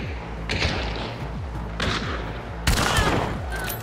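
Gunfire crackles in the video game Hunt: Showdown as a rapid volley of shots with heavy thumps, followed by a louder, sharper burst, all close and dense with no speech.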